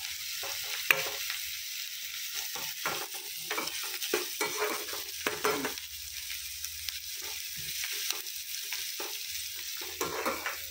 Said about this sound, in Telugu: ఇవైతే కొంచెం బ్రౌన్ కలర్ వచ్చేంత వరకు వేయించుకోవాలి